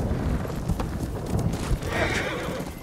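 A horse whinnies and its hooves clip-clop steadily in Ghost of Tsushima over a dense, rumbling game soundscape, loud and close throughout.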